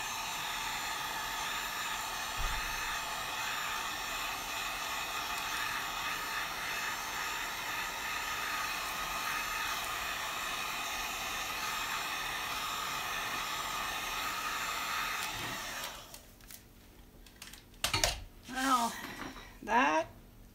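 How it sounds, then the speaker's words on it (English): Heat gun blowing on poured acrylic paint in a cup pour, a steady close hissing roar for about fifteen seconds, then it shuts off and a few brief knocks and handling sounds follow. "now I'm gonna try my heat gun and see if I can get more cells to come through"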